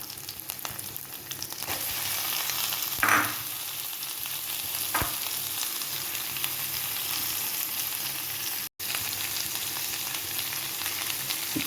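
Sliced onions frying in hot oil with curry leaves for a Kerala chicken curry, a steady close sizzle throughout with a few stirring scrapes and one brief dropout.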